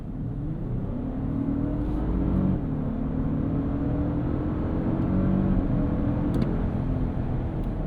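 A 2025 Lexus LX 700h Overtrail with a twin-turbo V6 hybrid and 10-speed automatic accelerates, a steady, moderately loud engine drone heard from inside that climbs in pitch, dips with a shift, and keeps pulling.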